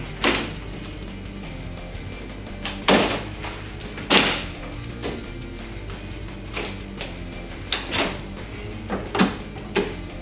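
A Bak Revolver X4S rolling truck bed cover on a 2023 GMC Canyon or Chevrolet Colorado being closed and latched, giving several close, sharp thumps and clacks spaced irregularly over a quiet background.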